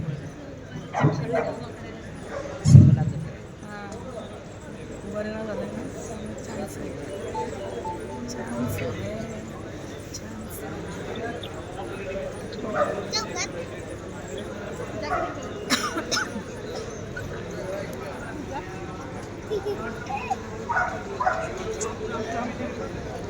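Dogs bark at a dog and cat show organised by a kennel association in Pandharpur, with a loud bark near the start and scattered fainter yips later, under ongoing announcer talk and crowd noise.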